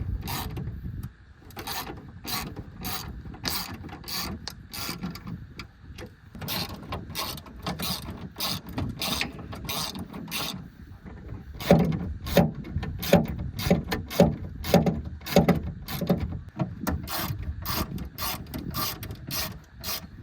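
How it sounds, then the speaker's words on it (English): A 7/16 wrench and a 5/32 Allen key tighten bolts on a sliding molle panel in a 2015+ Ford F-150 with repeated sharp ratcheting clicks in quick bursts, close and fairly quiet. "We'll go ahead and tighten everything up in here."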